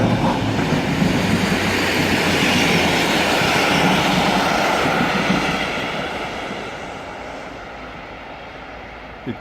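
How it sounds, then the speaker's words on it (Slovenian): A four-car Slovenian Railways passenger train rolls past loud and close, with a steady rumble and rapid wheel clatter that fades slowly over the last few seconds. "vlak Slovenskih železnic z 4 vagoni"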